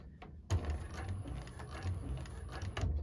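A 1341 cylinder arm sewing machine running a couple of stitches close to bag interfacing, starting abruptly after a quiet moment into a steady mechanical whir with rhythmic low thumps, close and moderately loud.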